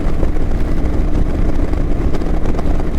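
A Kawasaki Vulcan 900 motorcycle cruising at highway speed, its engine drone a steady, loud, broadband roar blended with heavy wind rush and no letup.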